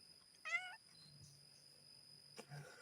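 A cat gives one clear, close meow, then a quieter short meow near the end, over a faint hum in a quiet room.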